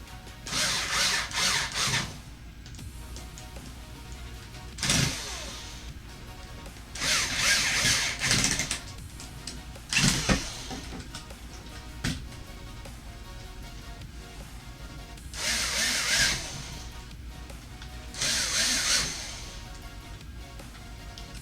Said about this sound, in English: I know you hear the drill bit kind of slipping out of the screw there